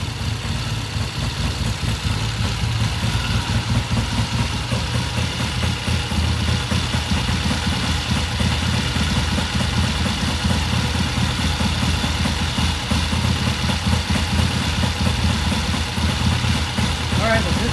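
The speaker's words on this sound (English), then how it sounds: "bike is outdoor idling" Triumph TR6 motorcycle engine idling outdoors, a steady, even mechanical rumble with a continuous pulsing beat from start to finish, fairly loud and unbroken.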